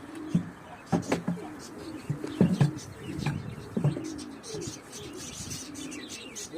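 Pigeons flying overhead coo in low, soft bursts while small birds chirp faintly in the background, with steady outdoor ambience throughout.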